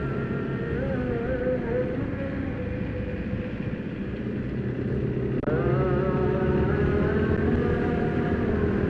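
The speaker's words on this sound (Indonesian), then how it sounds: "Mobilnya kan di sini kok banter ya mobil ini." A car speeds past on the alternative Malang–Blitar mountain road via Ngantang at dusk, a steady loud engine roar and tyre rush that swells near the end as it passes close.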